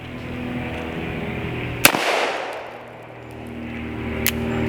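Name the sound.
gunshots from revolver at shooting range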